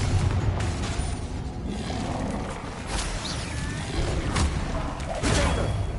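Spell combat in Hogwarts Legacy, with Confringo explosions: a run of dull booms, thuds and whooshing bursts at uneven intervals over a constant rumbling background, moderately loud and fairly close.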